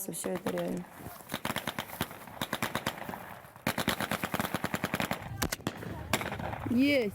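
Rapid bursts of blank-cartridge gunfire crackle in long rattling strings, loud and close, with voices shouting over and between the volleys.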